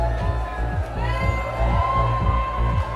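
Crowd outside Westminster Abbey before a royal wedding, a continuous mass of cheering and raised voices with shrill whoops rising over it, heard at a distance alongside a steady low rhythmic thumping.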